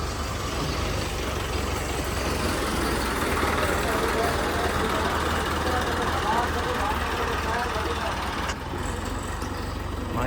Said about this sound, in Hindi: माशाल्लाह 640 ट्रैक्टर